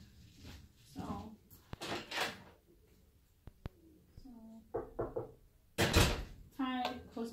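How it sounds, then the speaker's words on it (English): A door swings shut in a room at a nursing training lab, giving a short sharp thud amid shuffling and handling noises, with a person talking nearby before and after it. "closing the door for privacy"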